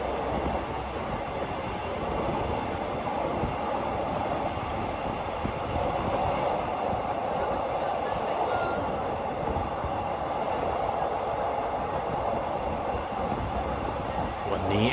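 Continuous rumble and rattle inside a moving Thai passenger train near Nakhon Ratchasima station, with wheels clacking on the rails and faint voices mixed into the steady noise.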